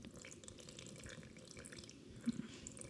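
Liquid for homemade coconut rum is poured slowly back through a curd filter, giving a faint, steady trickle and splash with a small drip near the end.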